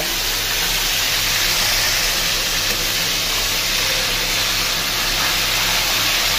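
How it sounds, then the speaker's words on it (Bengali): Meat frying lightly in oil in a pan, a steady, loud, unbroken sizzle and hiss that holds evenly throughout. "মাংসগুলো দিতে। হালকা করে ভেজে নেব।"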